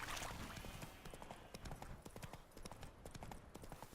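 Roach, a horse in The Witcher 3 video game, gallops in a rapid, even clip-clop of hooves, faint and fairly close.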